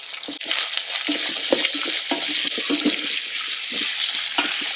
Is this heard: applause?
no